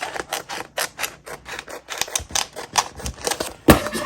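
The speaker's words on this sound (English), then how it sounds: "Cut off that excess first." Scissors trimming excess from a sublimation HTV sheet, a quick run of crisp snipping clicks in an uneven rhythm, close up, ending with one louder cut.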